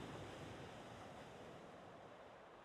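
Ocean surf rolls in a soft, continuous wash of broadband noise, steady and fairly distant, with no voices.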